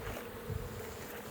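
A bee buzzes close inside a beekeeper's suit during a late-season hive check before winter, a brief low droning hum with a slight wavering rise in the middle.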